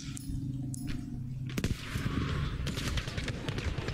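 Rapid gunfire from an online match of the shooter Battlefield 5 breaks out suddenly after a quieter stretch, then rattles on as dense, loud automatic bursts and scattered shots.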